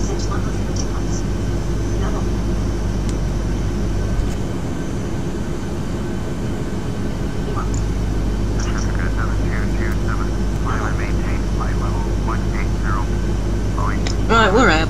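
Steady, loud drone of a Cessna 172 light aircraft in flight in a flight simulator game, a constant engine hum filling the whole stretch with faint voices talking over it now and then.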